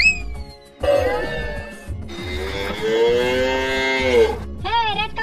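Several long, loud cow moos follow one another, one sliding in pitch, with a brief squeaky sound at the end.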